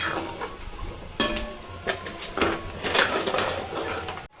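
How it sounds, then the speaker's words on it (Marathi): Onions and asafoetida are stirred in a pan while cooking mutton vajari, with a series of close metallic scrapes and clinks from a spoon against the pan, irregular and moderately loud, without talk. "आपण आता हिंग सुद्धा कांद्यामध्ये पूर्णपणे मिक्स करून घेणार आहोत"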